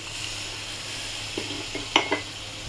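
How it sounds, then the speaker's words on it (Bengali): Water poured into hot fried masala for a vetki fish curry, a steady sizzle with a few louder bursts of hissing and splashing near the end, close by with no talk. "এবার আমি একটু জল দিয়ে দেবো।"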